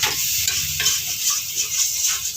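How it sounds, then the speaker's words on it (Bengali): Baingan bharta, mashed eggplant, is being stirred in a hot pan, with a continuous loud sizzle and soft scraping strokes of the spatula throughout. "এভাবে করার মধ্যে এটাকে মিনিট 5 নেড়ে নিলেই তৈরি হয়ে যাবে বেগুন ভর্তা।"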